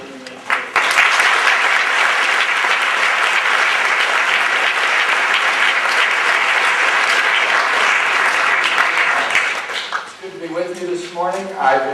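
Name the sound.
audience applause welcoming Dr. William Lane Craig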